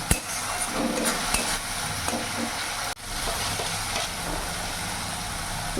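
Masala for a boal fish curry fries in oil while being stirred, giving a steady close sizzle with occasional scraping stirs against the pan, moderately loud and without talk.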